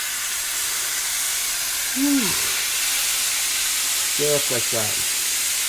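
Steam hisses steadily from sausage, peppers and onions sizzling on a BBQ, a broad continuous sizzle with a man's brief speech over it.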